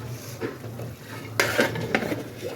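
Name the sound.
placing a hot tawa griddle under the biryani pot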